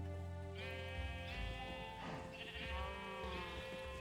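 Sheep bleat over and over in a farm setting, with several long wavering cries overlapping in steady succession, close and fairly loud against a low background hum.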